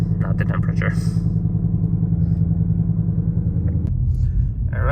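A 2019 Ford Mustang idles just after startup with a deep, steady rumble close by, its revs settling lower near the end while someone talks over it.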